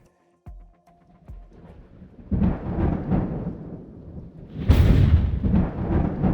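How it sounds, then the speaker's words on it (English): Thunder from an electrical storm rumbles in heavy rolling bursts after a few sharp cracks, swelling to a loud, broad crash near the end with deep low rumble throughout. "Warning, electrical storm inbound."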